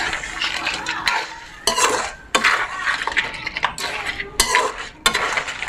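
Crab curry seasoned with chili, salt and pepper being stirred in a pot, repeated loud scraping and clattering strokes of a utensil against metal in an uneven rhythm, with a light simmering sizzle underneath.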